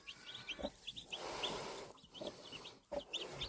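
A broody hen clucks softly among turkey poults, with repeated high, thin chirps from the young birds scattered throughout and a few low clucks, all fairly quiet against a faint rustling background.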